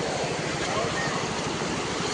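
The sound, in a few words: fast-flowing floodwater on a flooded road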